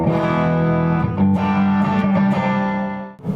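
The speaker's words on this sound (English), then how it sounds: "The Klon overdrive sounds something like this." Electric guitar driven through a Klon overdrive pedal, warm crunchy chords strummed and held for a few seconds, loud and close, fading briefly at the end.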